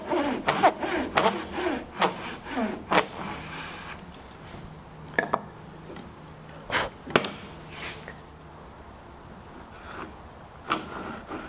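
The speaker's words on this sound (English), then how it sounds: "Then use the 45 jaguchi jig to continue and complete the cut." Japanese hand saw cutting wood for a shoji joint, guided by a 45-degree jaguchi jig, with a run of quick rasping strokes at first, then scattered isolated strokes and pauses, fairly close and alone.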